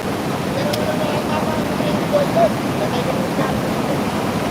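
A strong river current rushes steadily during a difficult crossing of fast water, a dense unbroken roar of turbulent flow close by with no clear speech.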